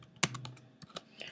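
A few quick, quiet keystrokes on a computer keyboard while typing code, one sharper clack followed by several lighter, irregular taps.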